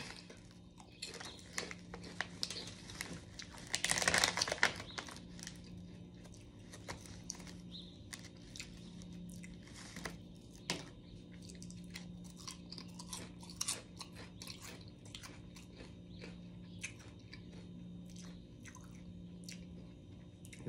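Close, crunchy chewing of Rap Snacks honey barbecue potato chips, a steady run of crisp bites and wet mastication that continues for about twenty seconds with a louder crunching burst early on and no talking.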